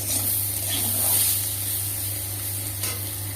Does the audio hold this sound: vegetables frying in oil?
yes